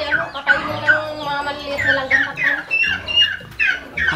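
Several turkeys gobble in repeated overlapping bursts on a farm, loud and close, with other fowl chattering around them.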